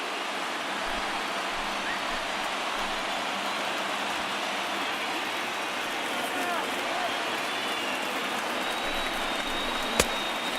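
A stadium crowd roars steadily throughout a late rally in MLB The Show 19, Giants at Marlins in Miami. A commentator's voice runs over the broad, continuous noise.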